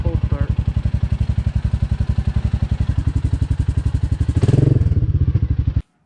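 A Suzuki King Quad ATV engine runs after a cold start, a loud, close, rapid thumping idle with even regular beats, a brief revving swell near the end, then a sudden cutoff.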